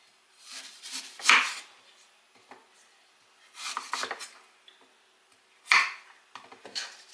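Fresh ginger being roughly chopped with a knife on a board, giving three clusters of quick, close knife strikes separated by short pauses, with no talking.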